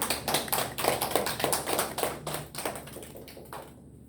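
A church congregation gives a short round of welcoming applause at an early-morning weekday service: light, scattered hand claps in quick succession that thin out and stop after a few seconds.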